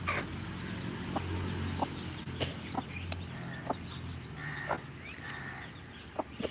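Chickens cluck and squawk in short bursts throughout, with a few sharper calls over a low background rumble, no talking.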